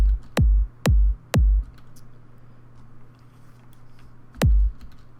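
Two-layer electronic kick drum built in FL Studio for a tech house track, heard alone: three quick punchy thumps in a row, a pause, then a fourth, each with a deep booming low end and a fast decay.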